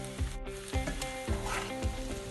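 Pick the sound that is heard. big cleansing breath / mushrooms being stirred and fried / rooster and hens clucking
mushrooms being stirred and fried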